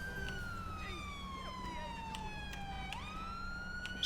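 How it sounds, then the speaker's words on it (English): A police car siren in Grand Theft Auto V wails, sweeping slowly down then rising again, steady and moderately loud, over a low engine rumble. "Just mute my siren here."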